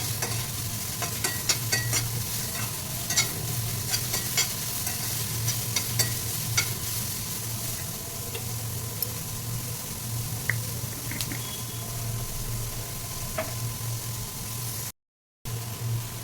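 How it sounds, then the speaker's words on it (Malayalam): Chicken noodles with assorted sauces stirred and tossed in a hot pan, giving a continuous sizzle with scraping and squishing strokes throughout. Close and steady, with no talking. "എന്നിട്ട് നന്നായിട്ട് ഇളക്കി യോജിപ്പിക്കും"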